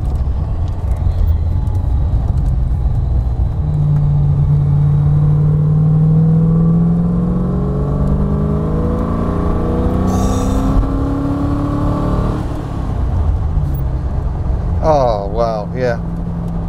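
A Hyundai Stellar with a V8 engine drives and accelerates on the road, its engine note rising steadily in pitch under a loud interior rumble, with a gear change and a climb again near the end.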